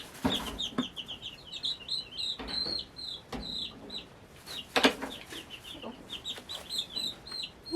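Baby chicks peep continuously in a brooder, many high, close cheeps overlapping in a busy chorus, with occasional rustling and handling noises.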